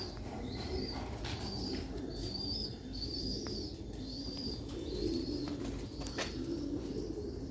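Sialkoti pigeons coo steadily in repeated soft, throaty phrases at close range, with occasional higher calls over a constant background hum and no talk.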